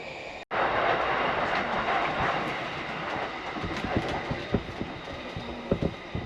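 A Yamanote Line train in Tokyo rumbles steadily along the track with a broad, continuous roar, joined by faint rhythmic clicks and knocks of the wheels.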